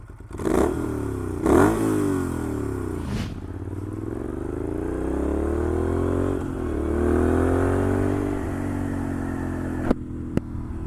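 A Moto Guzzi Griso motorcycle's V-twin idles and revs up close, its deep loping pulse rising and falling with a few sharp clunks and rattles as the whole bike shakes and bucks.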